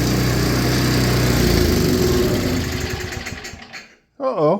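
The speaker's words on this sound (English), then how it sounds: "About 4 pulls with the choke on. She fired right up." A 5HP engine on a 24-inch MTD snowblower runs steadily at close range, then cuts out and goes quiet near the end; a voice speaks briefly just after.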